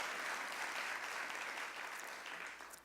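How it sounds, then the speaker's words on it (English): A convocation audience of college faculty claps together in a brief, even burst of applause, moderately distant and soft, tapering off toward the end. "You can applaud as many times as you want."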